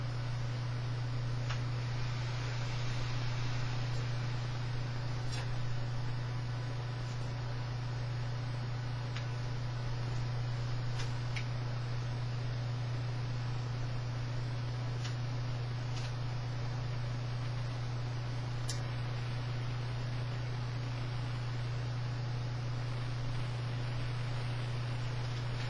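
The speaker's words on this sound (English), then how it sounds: "I have a Antec Tri-Cool fan blowing straight on it, and I have another 120mm at the front for exhaust" An Antec Tri-Cool cooling fan blows straight onto a CPU heatsink in a Q6600 computer, giving a constant, even airy whoosh with a low steady hum and a few faint ticks throughout.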